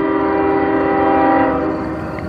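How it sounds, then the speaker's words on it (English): A CSX freight train at night in Fostoria, Ohio sounds a loud, sustained horn chord close by. It holds steady for about two seconds and then eases slightly, with rail rumble beneath. "And CSX coming around that corner."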